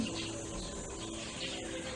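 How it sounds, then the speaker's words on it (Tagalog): Faint birdsong and soft calls drift over a steady outdoor background hum in the Philippine countryside, distant and continuous throughout. "Narinig yung mga ibon."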